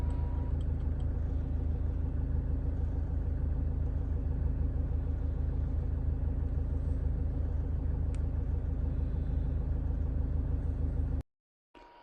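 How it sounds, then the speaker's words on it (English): A Range Rover Evoque 2.2 SD4 diesel engine runs steadily, a loud, even, low rumble held for about eleven seconds before it cuts off abruptly, leaving near silence. "Start the engine and run it for a few minutes"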